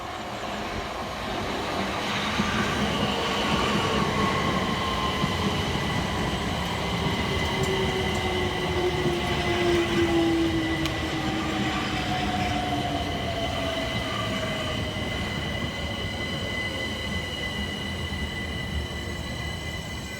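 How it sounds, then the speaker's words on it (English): Two Southeastern Class 376 electric multiple units, 376024 and 376025, run into a station on the Hayes Line, with a steady rolling rumble, a rising whine and faint wheel squeal throughout, loud and close. "Arriving next into the station with 376024 and 376025, working the 1505 Southeastern service from London Charing Cross through to Hayes"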